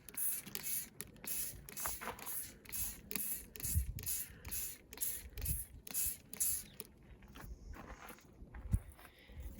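Rose plants get sprayed with a garden sprayer, giving a close run of quick, evenly spaced hissing spurts with faint rustling between them before the bursts thin out.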